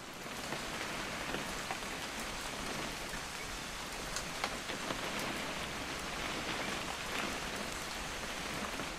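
Rain in the video game What Remains of Edith Finch, a steady dense hiss of drops on surfaces with scattered brighter patters, constant and fairly close, with no talking.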